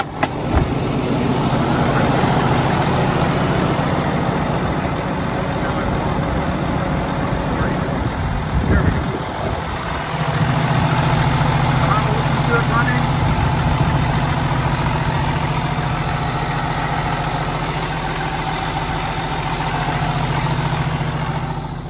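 A 2015 Peterbilt 579 semi truck diesel engine idles steadily with a deep, constant rumble, briefly dipping and shifting around the midpoint before settling back into its drone.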